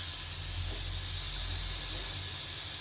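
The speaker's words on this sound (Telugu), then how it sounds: "మిక్సీ పట్టానండి." A mixer grinder blends chutney ingredients with rock salt in its jar, a loud continuous motor whir with a strong steady low hum and dense hiss, unbroken throughout.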